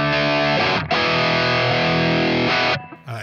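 A thick, sustained electric guitar chord rings out through a compressor, dense and even, briefly cut then held before fading into a quieter note.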